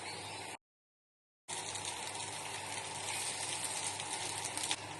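Egg mixture fries on a paratha in a hot pan, giving a steady close sizzling hiss that cuts out for about a second and then returns just as strongly, with a brief louder crackle near the end.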